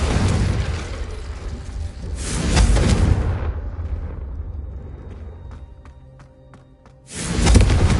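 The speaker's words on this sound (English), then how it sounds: "I think you'll find that a Confringo cast travels a bit farther." Confringo spell blasts in the video game Hogwarts Legacy: a loud fiery explosion burst, a rumbling lull with faint metallic clinks, then a second booming blast near the end, with no talk.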